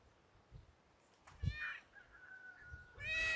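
A cat gives a few close, drawn-out meows outdoors at a garden in Crete while citrus trees are being planted, with soft wind noise and a quiet stretch before the calls.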